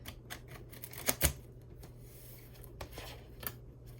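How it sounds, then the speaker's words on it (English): Tarot cards being shuffled by hand, soft quick riffling clicks and a couple of louder snaps near the start, close and fairly quiet with no talk. "if anybody has tips on shuffling, please let me know"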